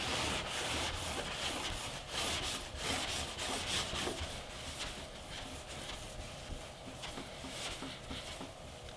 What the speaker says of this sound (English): I could hear something when I glide the piece of clay over the paint